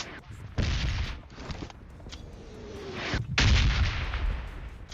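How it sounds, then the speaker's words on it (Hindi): Gunfire in the mobile battle royale game PUBG Mobile, with several sharp bursts of shots, some near and loud, others more distant, over a steady game background. "वो और जगह से फायरिंग हो रही है"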